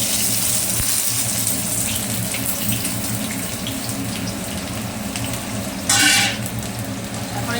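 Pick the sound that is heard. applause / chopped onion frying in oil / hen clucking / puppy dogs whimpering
chopped onion frying in oil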